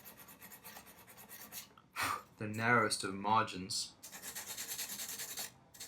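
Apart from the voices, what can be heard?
filing an acoustic guitar nut slot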